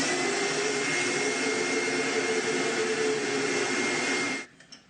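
Shop vacuum sucking sawdust through a cyclone separator on a 2-inch hose, a loud, steady roaring hiss held for several seconds before abruptly cutting off, followed by a few faint clatters.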